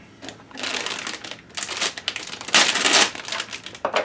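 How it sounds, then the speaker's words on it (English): Crinkly plastic bag being torn open and peeled off a Gunpla model kit runner for an MG Neo Zeon MSN-04 Sazabi Ver. Ka, with close, loud bursts of crackling and rustling in uneven waves. "One more runner to unwrap."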